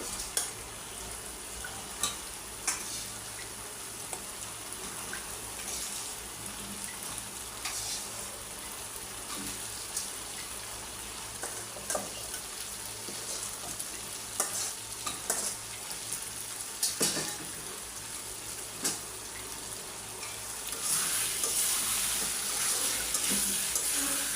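Potatoes fry in a pan with a steady, close hiss and sizzle, broken by occasional clinks of stirring, and growing louder near the end.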